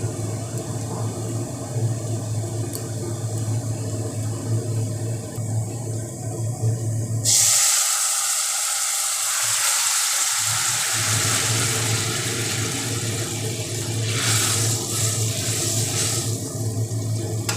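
Potato, stem and lentil-fritter curry poured into a hot pan, setting off a loud, steady hiss and sizzle that holds alone for several seconds before easing.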